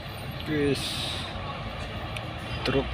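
A large tanker truck rumbles past close by, with a brief air-brake hiss and horn-like tones over steady traffic noise.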